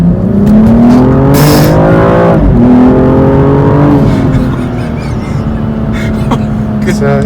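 A BMW M235i xDrive accelerating hard in sport mode, its engine note climbing steadily in pitch as it pulls up to highway speed, loud and continuous from inside the cabin with a person talking over it.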